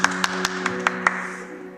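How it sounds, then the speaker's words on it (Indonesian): Six sparse, sharp hand claps at a children's online healing worship service, spaced roughly a quarter second apart and fading out, over a steady sustained musical drone. "Berikan tepuk tangan buat Tuhan."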